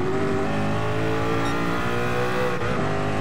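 A Group 1 prototype race car lapping Le Mans in GT Sport, its engine a loud continuous high-pitched drone that rises and shifts through the gears, with a faint tire squeal.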